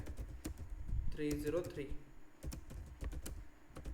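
Keys clack on a computer keyboard in light, irregular taps close by, with someone speaking briefly over the typing.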